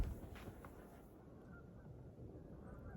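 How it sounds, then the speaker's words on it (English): Faint honking of geese in the distance over steady outdoor wind noise in a snowy graveyard, a few calls scattered across the stretch. "Hear the geese?"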